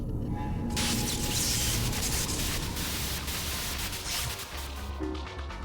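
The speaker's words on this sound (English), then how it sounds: "White noise on the screen will signal the start of battle." Harsh static white noise signaling a battle start in .hack//G.U. bursts in after a brief quieter moment and hisses loudly and steadily across the full range, with faint crackling texture underneath.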